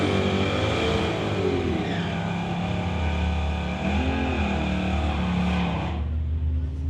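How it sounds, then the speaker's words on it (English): Drag race cars rolling into the water box at a street-legal drag strip, engines droning steadily and fairly loud with a rising rumble, cutting off abruptly near the end. "Our first two cars rolling up into the water box now."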